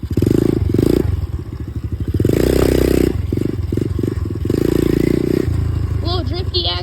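Automatic dirt bike ridden off-road, its engine droning and pulsing with rising and falling revs, close and fairly loud, with clattering bumps and brief rattles near the end.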